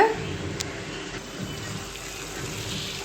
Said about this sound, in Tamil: இப்போ இதை வந்து நம்ம தண்ணி ஊற்றி நம்ம இதை மாவு வந்து இப்போ மிக்ஸ் பண்ண போகிறோம்